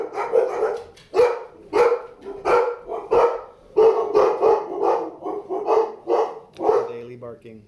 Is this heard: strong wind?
no